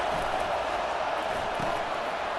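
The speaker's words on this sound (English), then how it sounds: "This crowd rising up, sensing that its defense needs some help." Crowd noise swells from a packed stadium in the video game College Football 25, a broad steady roar holding at constant loudness across a few seconds with no distinct peaks.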